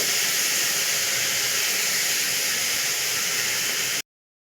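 Sliced onions frying in a pan with a pinch of salt, giving a steady, close, even hiss that holds without pause for about four seconds and then stops abruptly.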